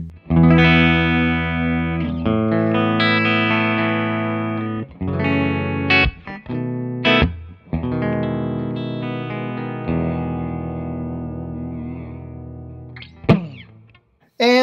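A Paul Reed Smith electric guitar played through a Bravado amp with a pedal running on 9 volts gives distorted riffs and sustained chords, loud and continuous, with a few brief pauses and no talking.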